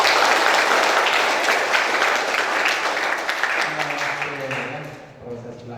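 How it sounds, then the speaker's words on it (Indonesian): Applause at a choir competition winners' announcement, loud sustained clapping that gradually thins and fades toward the end as a voice begins to come through. "Tepuk tangan dulu."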